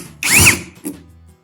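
A power tool briefly whines at high pitch while backing out a 10 mm bolt on a Yamaha Nmax scooter. It runs for about half a second, then gives a shorter second burst, close and loud.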